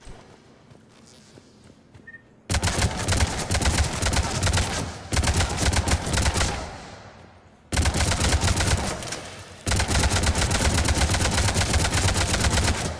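An Avenger assault rifle in Mass Effect 3 fires full auto in long sustained bursts, each lasting a few seconds, loud and close with brief pauses between volleys.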